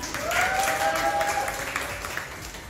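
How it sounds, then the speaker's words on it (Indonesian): An audience claps for the coach at an Oriflame training event, a steady wash of applause lasting throughout with a thin whistling tone running over it. "Tepuk tangan dong buat coach kita"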